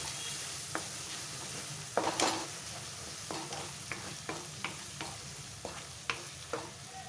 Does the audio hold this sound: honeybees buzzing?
no